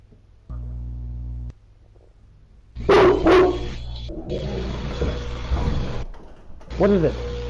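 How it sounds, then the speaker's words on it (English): A female dog barks in a short burst of several loud, close yaps amid room noise and a steady hum, with a voice speaking around them. "There's nothing to bark at."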